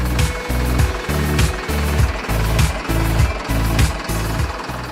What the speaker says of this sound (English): The fuel is pumped with a dispenser vehicle in the aircraft's tank.